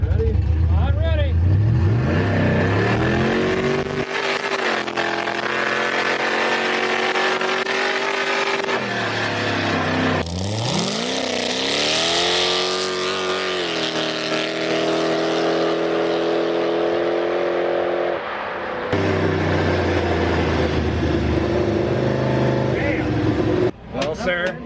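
A roughly 525-horsepower Yukon under 2,000 pounds drag racing on glare ice, its engine roaring loud and close as it launches and climbs through gears, with shifts, dips and renewed surges over about twenty-five seconds.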